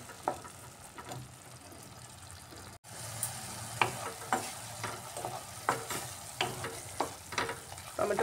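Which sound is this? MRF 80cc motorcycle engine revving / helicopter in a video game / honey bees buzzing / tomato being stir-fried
tomato being stir-fried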